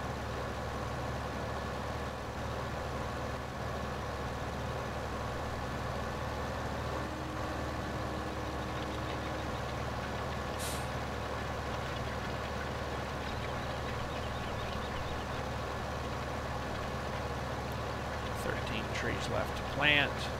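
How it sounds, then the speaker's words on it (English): Tractor with a tiller working a field in Farming Simulator, a steady low engine drone rumbling continuously throughout at an even level, with a few brief faint clicks near the end. "there's a tiller thingy there. So that chops the ground all up for you"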